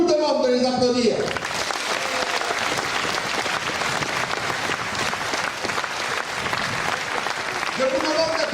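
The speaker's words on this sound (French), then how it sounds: "Je vous demande de les applaudir." Audience applause at a Calédonie Ensemble political congress, a dense, steady ovation lasting several seconds, with a voice speaking briefly before and after it.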